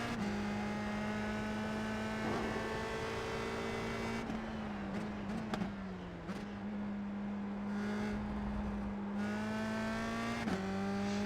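A race car engine in a racing simulator game holds a loud, steady high drone throughout, dipping briefly in pitch around shifts or lifts before pulling back up under throttle. No talking.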